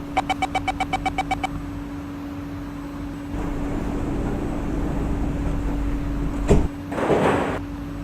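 In the OpenBVE train simulator game, train doors close after a rapid series of about nine warning beeps. A sliding rumble follows, ending in a sharp thud and then a short burst of air hiss.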